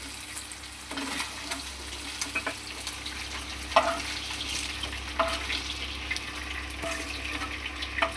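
Tangra fish sautés in oil in a pan, a steady moderate sizzle with intermittent sharper spits and pops over a faint low background hum.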